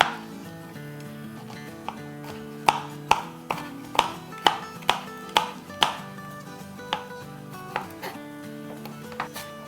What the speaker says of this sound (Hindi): हम अपना हरा धनिया और हरी मिर्चें काट लेते हैं